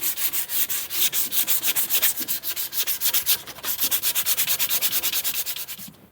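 Steady back-and-forth strokes of 220 grit sandpaper rubbing by hand along a wooden axe handle, loud and close, in an even rhythmic scratching pattern with no voices.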